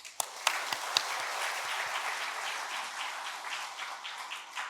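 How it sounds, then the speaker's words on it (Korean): A Sunday church congregation applauds in thanks, opening with a few sharp distinct claps before swelling into steady, moderately distant applause from many people. "이 시간 우리 하나님께 감사와 영광의 박수를 올려드리겠습니다"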